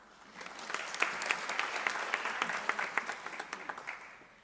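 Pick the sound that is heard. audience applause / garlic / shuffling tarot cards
audience applause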